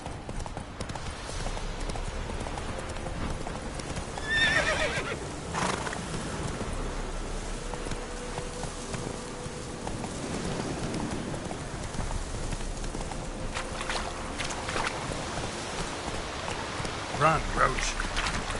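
Roach the horse gallops in The Witcher 3, with rhythmic hoof clip-clops over game ambience, moderately faint, and a voice speaking briefly over it.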